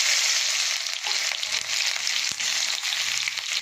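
Garlic and ginger fry in oil left over from frying pakoras, giving a steady, bright sizzle that dips briefly now and then, with a faint stir or two underneath.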